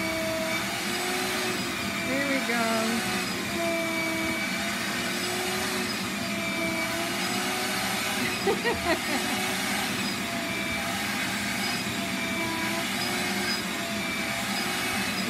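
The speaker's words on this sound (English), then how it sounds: "for you to vacuum him" A vacuum cleaner runs steadily and loudly throughout while it grooms a German Shorthaired Pointer, its drone continuous with small shifts in pitch, and a person speaks briefly under the noise.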